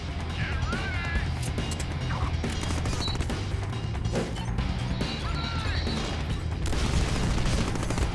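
A grenade blast and gunfire in the Deadpool video game, crashing impacts and bursts of shots over a dense, continuous game soundtrack, with voices talking throughout.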